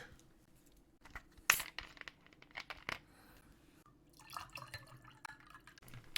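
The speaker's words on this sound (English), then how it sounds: "I can pour myself another gin drink" Gin drink being poured at a desk: liquid splashing and trickling into a glass, with a sharp clink and a few crinkles and taps, close and fairly quiet, no talking.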